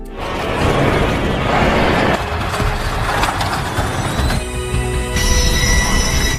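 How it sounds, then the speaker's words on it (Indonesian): A train grinds along with loud, high-pitched squealing wheels and rumbling carriages, the metallic screech shifting as it slows. "The train just stopped."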